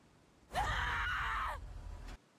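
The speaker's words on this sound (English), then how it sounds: "that is such a raw scream" An anime character in Knights of Guinevere lets out a raw, strained scream, one sustained loud cry of about a second and a half that cuts off sharply, followed by a brief noisy tail.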